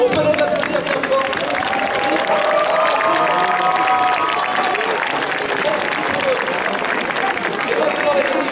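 A crowd applauds at the Ratatouille ride opening ceremony in Walt Disney Studios park, giving a sustained, even wash of clapping and cheering with voices mixed in.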